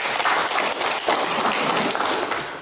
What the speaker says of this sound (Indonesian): Oke, tepuk tangan anak-anak untuk kawan kita.